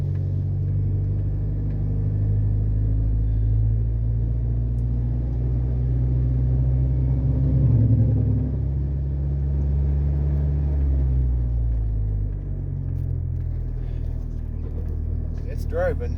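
A car being driven on its first test drive after start-up, giving a steady low engine rumble that hums on throughout, close and fairly loud, with a person talking over it.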